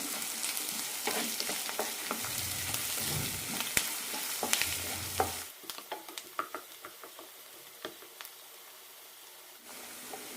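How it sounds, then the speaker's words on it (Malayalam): Chopped onion, green chillies, ginger and curry leaves sauté in a pan, first as a dense loud sizzle, then dropping to a quieter crackle with repeated spatula scrapes and taps, before the sizzle swells again near the end. "ഇതിലേക്ക് സവാള അരിഞ്ഞതും രണ്ട് പച്ചമുളക് ഇടാം ചെറുതായി അരിഞ്ഞ ഇഞ്ചിയും കറിവേപ്പിലയും നന്നായി വഴറ്റാം"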